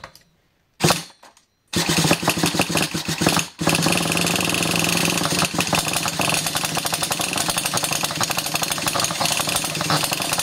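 Nitro engine of an HPI Savage XL 5.9 RC car: after a couple of short bursts it catches and runs loud and close, a rough, buzzing rattle with rapid uneven pulses, briefly cutting out before settling into a steady high idle.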